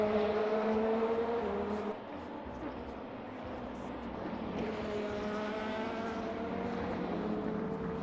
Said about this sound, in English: now you should get car noise